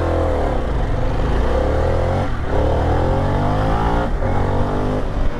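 A 2022 Harley-Davidson Pan America motorcycle on knobby tires accelerating hard on a public road, its engine roaring loud and close with rising pitch through two quick gear changes.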